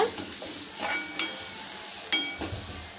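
Vegetables with salted carrot sauté in a pan, a soft, even sizzle punctuated by a few distinct spatula scrapes and taps.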